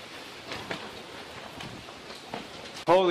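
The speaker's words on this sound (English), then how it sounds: "Oh my gosh, the rain is entering my garage." Heavy rain hisses steadily into a garage in Tucson, Arizona, with scattered nearby drips and splashes, ending in a sudden louder burst at the close.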